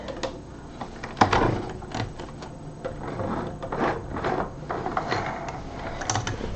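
A sewing machine back stitching at the end of a seam on a fabric bonnet, heard as a run of close mechanical clicks and whirring bursts with irregular pauses between short stitching runs.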